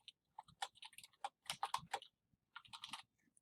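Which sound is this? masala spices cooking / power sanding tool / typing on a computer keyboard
typing on a computer keyboard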